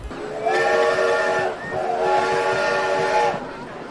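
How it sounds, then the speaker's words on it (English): A roller coaster train in the video game RollerCoaster Tycoon gives two long, loud, whistle-like blasts with a steady rumble underneath. A short pause separates them, and no voices are heard. "Look at the train, listen to that."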